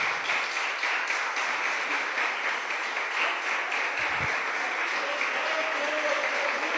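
A church congregation applauds in praise, a dense sustained wash of clapping with no break, fairly loud and filling the room.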